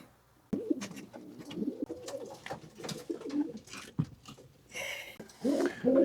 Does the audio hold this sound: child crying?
no